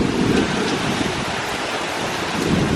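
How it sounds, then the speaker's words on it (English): Heavy rain from Hurricane Delta in Louisiana pours down in a dense, loud, continuous roar with strong gusting wind noise, nearby and unbroken throughout. "the rain coming down is steady, but not like that torrential downpour like we were having"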